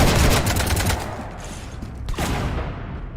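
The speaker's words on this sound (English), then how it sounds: "You want to stop shooting up my ship?" Rapid automatic gunfire strafing a ship in the video game Mass Effect 3, a dense loud burst of shots that thins into scattered impacts and a thud, with no voices.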